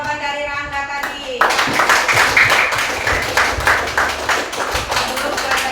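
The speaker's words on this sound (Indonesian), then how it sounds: "Ayo tepuk tangan" Classroom applause from pupils, a short voice followed by lively hand clapping with distinct individual claps in an uneven rhythm, close and fairly loud for several seconds.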